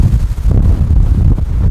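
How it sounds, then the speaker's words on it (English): A strong wind storm gusts hard, buffeting the microphone with loud, rumbling low roars that surge and ease in uneven bursts, close and overwhelming with no other sounds. "The wind is still kicking."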